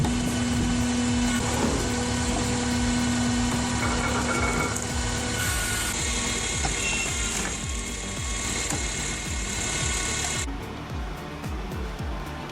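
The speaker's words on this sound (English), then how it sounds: "with its 612 horsepower, is powerfully and efficiently chipping bug-infested wood" A 612-horsepower Albach Diamond 2000 wood chipper grinds bug-infested wood, a loud, dense mechanical roar with rapid rattling and clattering throughout that eases slightly near the end.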